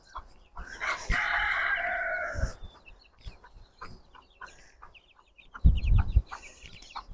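Free-range chickens and two-month-old chicks on a farm, a rooster crowing loudly near the start followed by scattered nearby clucks and rustling, with a brief louder commotion later.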